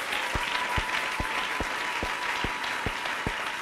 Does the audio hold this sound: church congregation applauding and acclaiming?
yes